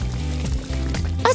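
Water pours steadily with a burbling, gurgling flow, close and continuous, ending in a brief splashy trickle.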